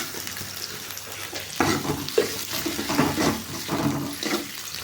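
Chopped chili and onion with curry leaves sauté in a pan for a murungai keerai poriyal, a close sizzle broken by several bursts of scraping and stirring.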